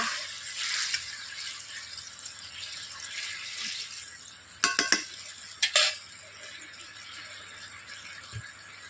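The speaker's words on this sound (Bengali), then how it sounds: "এরপর আমি দিয়ে দিচ্ছি সয়াবিনগুলোকে। সয়াবিনগুলোকে আমি 5 মিনিট ফুটিয়ে নেব।" Soybeans go into a pot of boiling water in a home kitchen, with a soft bubbling simmer broken by a few clustered clinks and rattles, fairly quiet and close.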